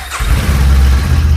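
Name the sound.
Kawasaki Ninja 300 motorcycle engine starting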